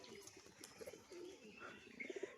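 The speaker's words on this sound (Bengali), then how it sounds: "এই যে নরপায়াটা ডাকছে এখানে" Soft, low cooing from a male pigeon, a few rounded notes near the end, faint and close, with light background noise.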